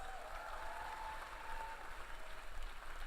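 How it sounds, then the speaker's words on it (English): An audience at a 2018 university graduation ceremony claps in steady, fairly faint applause that continues without pause throughout. "Please give a round of applause to Dr. Hollis Liverpool"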